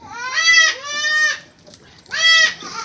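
A heavyweight cross-breed milking goat at a sale in Lahore bleats loudly up close, two quick bleats back to back, then a pause and a third.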